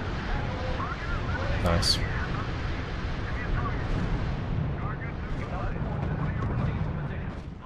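Explosions tear through a barracks in the strategy game R.U.S.E., a dense continuous rumble of blasts and artillery-like booms with someone briefly speaking over it.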